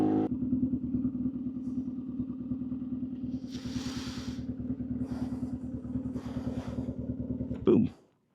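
BMW R nineT motorcycle on the road near Liberty State Park, a steady loud close engine drone with wind rush, a voice talking over it, ending in a brief clatter and silence.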